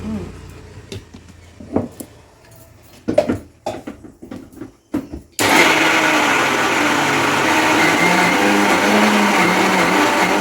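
An electric blender grinds soaked lentils for bori, starting abruptly after a few scattered knocks and clatters, then a loud, steady motor whir with gritty churning that runs to the end.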